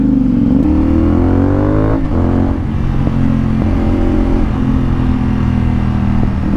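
A CF Moto 450SR sport motorcycle fitted with a very loud Akrapovic exhaust, its engine droning and rising in pitch through continuous revs, with a sharp throttle blip around two seconds, close and steady throughout.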